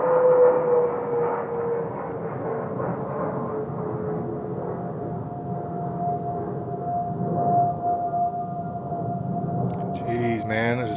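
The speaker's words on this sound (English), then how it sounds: "Always a jet flying over." A jet aircraft passes overhead near Texas A&M University, a steady droning roar with a slowly shifting whine that holds throughout, while someone talks in places and another engine tone joins near the end.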